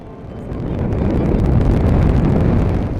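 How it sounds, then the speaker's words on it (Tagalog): Loud, steady roaring wind at the sea buffets the microphone, a dense rushing noise that swells and holds throughout. "Lakas-lakas ng hangin kaya malakas ang current."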